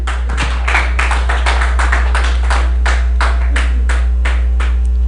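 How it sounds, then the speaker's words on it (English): A church congregation claps in a steady run of distinct claps over a strong low hum, fairly close and continuous throughout, with no talking. "You will clap for me."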